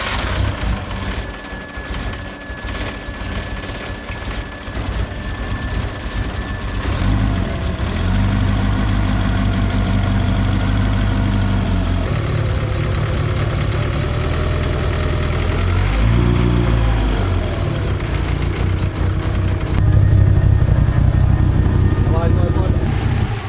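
A turbocharged street-tuned car engine cranks, catches and settles into a loud, steady idle with a low rumble and slight wavering in pitch, close by in a workshop, with people talking over it.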